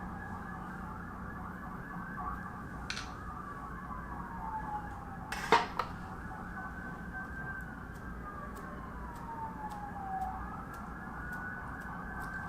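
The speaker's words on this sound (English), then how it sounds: "If you hear sirens, that is not on your end," Distant sirens wail outside a painting room, their falling and rising tones drifting faintly over a steady background hum, with a couple of brief clinks nearby.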